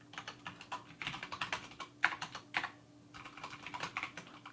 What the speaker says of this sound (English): I'm just going to type that in.